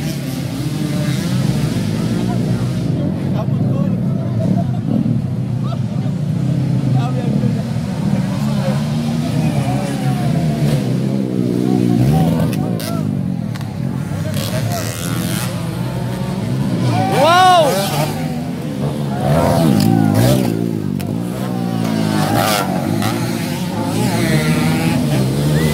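Motorcycles rev and race at a local enduro motocross final at a fiesta, engines rising and falling in pitch with sharp revving sweeps over a continuous loud rumble, while a voice talks throughout.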